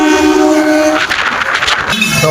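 A passenger train bound for Veraval rolls along, a loud close rumble inside the carriage with a sustained horn-like tone and rattling wheel noise building in the middle.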